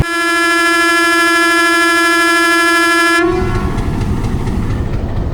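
A locomotive leading the 130 Down Thal Express sounds a long, loud, steady departure horn at Taxila Cantt junction station, held for about three seconds, then cuts off into the rumble of the train starting to move.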